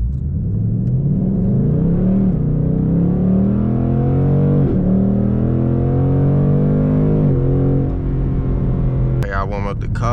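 Ford Mustang GT engine idling and revving while warming up, a steady rumbling drone with rising and falling pitch sweeps, loud and close, ending with a short clatter.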